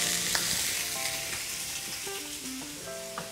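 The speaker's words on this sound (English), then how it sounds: "sizzle, sizzle, sear. I love that sound." Burger patties sear in a hot grill-lined skillet with a steady, loud, crackling sizzle that carries on without a break, with faint tonal music underneath.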